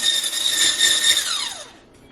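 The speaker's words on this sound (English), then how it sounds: "And then you whisk again. Whisk till stiff peaks." Pancake batter with sugar being beaten to stiff peaks by an electric whisk or mixer, a loud, close, high whirring buzz that holds steady and then winds down as the motor stops.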